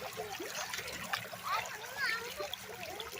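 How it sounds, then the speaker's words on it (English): Creek water trickles and splashes close by as a mesh sieve is rinsed and shaken, with soft irregular dribbles and a few brighter splashes throughout. "So I gotta wash it a bit more."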